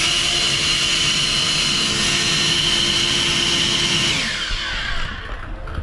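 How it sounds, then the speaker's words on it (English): An EGO 650 CFM cordless leaf blower clears water off a deck, a loud, close, steady jet-like roar with a tonal whine that winds down abruptly toward the end. "I'm pretty happy with this Ego leaf blower"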